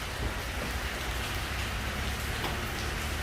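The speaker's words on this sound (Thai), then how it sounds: "วันนี้ฝนตกครับ จังหวัดกระบี่ครับฝนตกนะครับ" Steady rain falling in Krabi province, Thailand, a dense even hiss of drops hitting surfaces that holds constant and fairly close throughout, with no voices.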